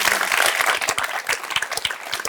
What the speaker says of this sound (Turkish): Bir alkış kocaman.